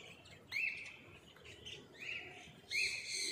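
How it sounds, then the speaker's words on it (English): Nanday conures in a walk-in aviary at Indore Zoo, Madhya Pradesh, give three sharp, bright chirps that rise out of steady, faint background twittering. "You can see a pair of Nanda conures sitting there pruning each other."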